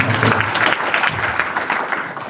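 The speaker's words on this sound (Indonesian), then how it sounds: "Tepuk tangan yang paling meriah." A church congregation bursts into loud, lively applause during a sermon, with dense clapping sustained throughout.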